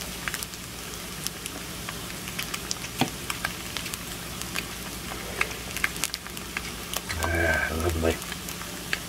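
Eggs fry and crisp in a pan beside leftover steak, a continuous close sizzle full of scattered pops and crackles, with a voice talking briefly over it.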